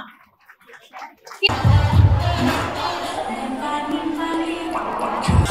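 An audience claps and cheers after a children's dance performance at a store event, loud crowd applause with shouts starting suddenly after a quiet moment and continuing steadily.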